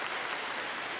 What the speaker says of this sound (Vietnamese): giờ cho một tràng pháo tay lớn cả nhà thờ xem sao nào